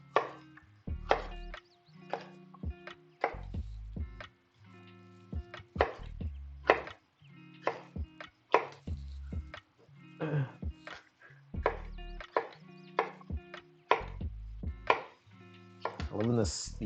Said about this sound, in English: Cut these into nice eating wedges.